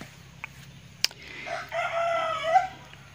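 A Sumatran red junglefowl or Bangkok rooster crows once, loud and close, a drawn-out rising call after a few sharp knocks, over quiet outdoor background.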